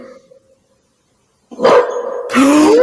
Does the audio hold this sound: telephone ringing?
no